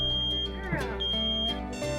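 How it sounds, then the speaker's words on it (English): A smoke alarm sounds with a high, piercing tone, continuous and loud, with some faint background noise mixed in. "smoke detectors,"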